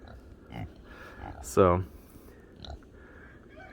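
Kunekune pigs in a snowy farm pen with gates grunt and oink, one louder close grunt standing out among faint snuffling, while a person talks briefly.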